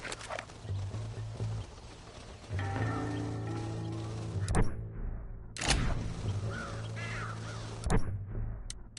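Crows cawing in the Western open-world game Red Dead Redemption, several harsh calls over a steady low rumble and recurring hoof-like clops, with sharp transients punctuating the scene.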